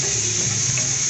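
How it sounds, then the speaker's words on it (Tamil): Chopped onions frying in a pan in a Sri Lankan village kitchen, giving a loud, steady, close sizzle that holds even throughout without any speech. "இப்படி வெங்காயத்தை வந்து நல்லா பொன்னிறமாக வாட வரும் வரைக்கும் பண்ணிக்கோங்க."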